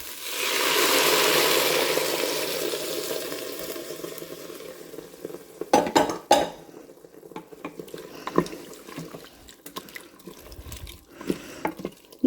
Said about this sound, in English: So now I'm going to add the vegetable stock.